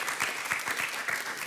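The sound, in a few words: studio audience applause welcoming guests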